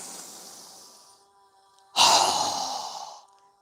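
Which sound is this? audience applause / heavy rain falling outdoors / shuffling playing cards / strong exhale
strong exhale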